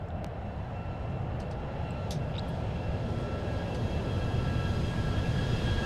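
A Boeing 737 (Zibo mod) landing replayed in the X-Plane 11 flight simulator, heard as a steady, loud roar of jet engine and rushing air that holds without a break and builds slightly toward the end.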